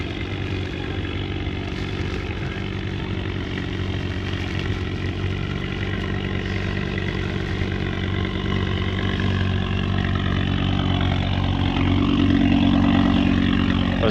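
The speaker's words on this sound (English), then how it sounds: "As the guys got the engines running to keep themselves warm." Car engines idle together outdoors at a car show in cold weather, a steady, loud, low rumble that holds for the whole stretch with a slight swell near the end.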